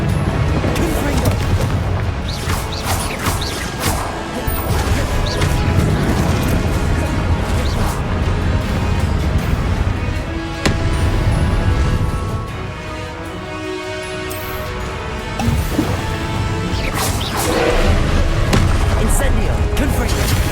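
Confringo fire spell explosions in Hogwarts Legacy, repeated loud booms and crashing blasts in quick succession amid battle noise, with a voice talking loudly throughout.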